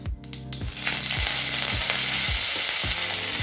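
Curry leaves hit hot oil in a kadai along with mustard seeds, urad dal, chana dal and asafoetida, starting a loud, continuous sizzle. Stirring scrapes repeat at a regular rhythm.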